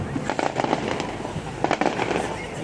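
Fireworks at Odaiba, Tokyo, crackle and pop in two dense bursts of rapid reports, moderately distant, with a steady ambient hiss between the volleys.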